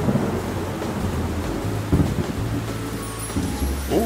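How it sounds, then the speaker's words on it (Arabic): A thunderstorm in a children's cartoon rumbles with steady heavy rain and rolling low thunder, loud and continuous throughout with a few deeper booms. "إنها عاصفة."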